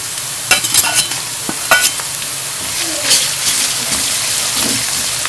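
Onions and ginger-garlic paste fry in ghee, a steady loud sizzle with repeated scraping stirs of a spoon through the pan, no voices.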